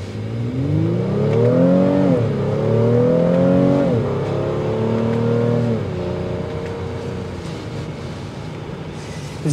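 A 2023 Honda Pilot Elite's V6 engine pulls through rising gears, its tone climbing and dropping with each shift over several seconds, loud and close, then settling to a quieter cruise.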